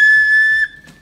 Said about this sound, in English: Got the football whistle.